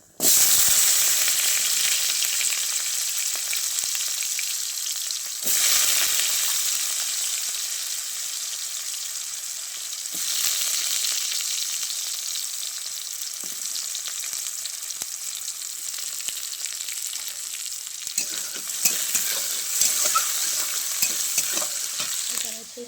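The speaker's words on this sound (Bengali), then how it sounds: "বাদামটা আমি একটু ভেজে রাখছি, এখানে আলু আর মরিচ আছে," Peanuts, potatoes and chillies frying in a pan, a loud continuous sizzle and hiss with periodic surges as the food is stirred and tossed, close up, with scraping toward the end and no talking.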